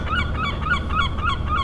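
A seagull calls repeatedly, about five honking cries in a steady rhythm over a constant low rumble of background noise.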